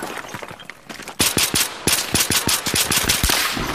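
Rapid bursts of automatic gunfire in the video game Battlefield 3, sharp close shots in quick irregular runs over a noisy background of combat.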